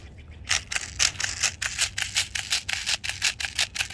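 A lubricated speed loader pushes BBs into the magazine of an Umarex AER16 .177 electric BB rifle, giving a close, rapid series of sharp ratcheting clicks in a quick, steady rhythm.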